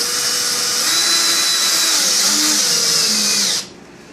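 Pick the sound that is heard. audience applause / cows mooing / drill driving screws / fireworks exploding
drill driving screws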